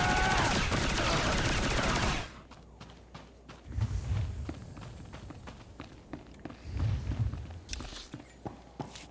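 Bursts of rapid gunfire rattle continuously at first in a sci-fi video game on the planet Balmorra, then give way to scattered shots, footsteps and dull thuds of combat.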